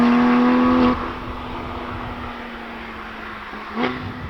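A Porsche GT3 RS engine hums steadily before a manual gear change drops the tone, then settles into a lower drone with another brief shift near the end, close and moderately loud.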